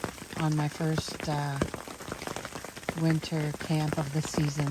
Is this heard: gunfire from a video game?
no